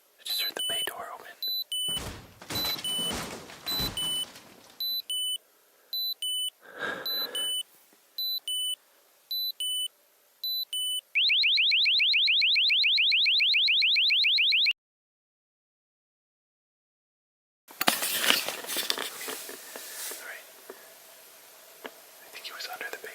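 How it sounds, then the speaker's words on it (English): An RV alarm gives a series of sharp electronic beeps followed by a continuous rapid pulsing alarm tone; after a silent gap, faint whispering and rustling return. "But the alarm went off and I think it scared him off."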